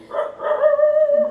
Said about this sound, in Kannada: ಹೊರಗಡೆ ನಾಯಿ ಬೇರೆ ಕೂಗ್ತಾ ಇದೆ